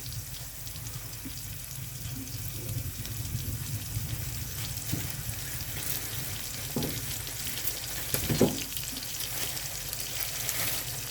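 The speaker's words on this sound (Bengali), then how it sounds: "পরে হচ্ছে কড়ার মধ্যে তেলের মধ্যে দিয়ে দিলাম" Marinated bata fish fries in oil in a pan, giving a constant close sizzle with occasional louder spits and pops, over a low steady hum.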